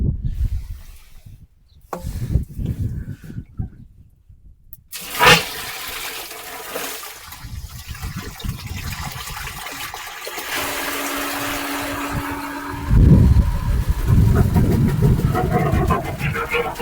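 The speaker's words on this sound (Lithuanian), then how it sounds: "Ir dabar man reikėtų hidroforą ištuštinti." Water drains and gushes out of an emptied hydrophore pressure tank in a pump pit. It comes in loud rushing bursts with quieter gaps between them, and a voice is faintly present.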